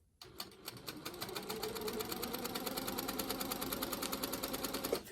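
A sewing machine stitches a quilt block with a rapid, even run of needle strokes. It starts after a brief quiet, close and clear, with no voices.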